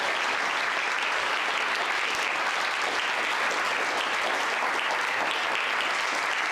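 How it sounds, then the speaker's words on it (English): A large audience at a Shakespeare performance grand final applauds loudly and continuously, a thick, even roar of clapping that keeps up without a break. "So let's give it a round of applause, shall we?"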